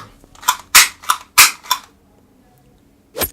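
A Spider-Man toy gun fires plastic ball bullets, producing about six sharp, loud, snappy pops in an uneven rhythm, then a pause before one more shot near the end.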